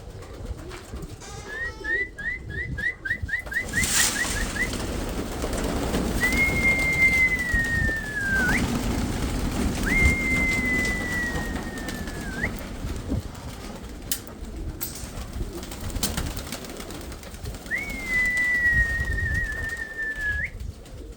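Domestic pigeons in a loft give a steady rumbling background with several drawn-out whistled tones and a brief rapid trill, continuous and close for about twenty seconds, with no talking.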